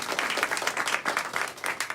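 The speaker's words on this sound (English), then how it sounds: "Give yourself a round of applause." Audience applause at a VIP fall fashion style show, a dense, steady patter of many hands clapping for about two seconds at moderate distance, with no voices over it.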